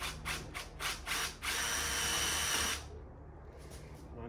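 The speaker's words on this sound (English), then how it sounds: "Give myself a little drill bit, ready to go." A power drill whirs in several short bursts into a wall, then runs in one steady, loud stretch before stopping, with faint clicks afterward.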